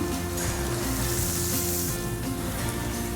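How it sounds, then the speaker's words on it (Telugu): Green chillies and mint leaves fry in hot oil, a loud, steady sizzle with dense crackle that holds evenly throughout, close and with no talking. "పచ్చిమిర్చి పుదీనాను కూడా వేసి ఫ్రై చేద్దాం"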